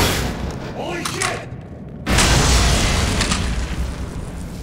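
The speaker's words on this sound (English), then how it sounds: "grenade time." A grenade blows up in the horror shooter Underhell: a loud, sudden broadband blast that cuts in sharply after a quieter stretch, then rumbles on as a dense roar through the rest of the moment.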